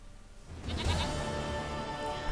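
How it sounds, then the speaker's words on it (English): A goat in The Witcher 3: Wild Hunt gives a single loud, wavering bleat that lasts over a second, heard alone without talk. "Goat of mine, dearest, sweetest goat."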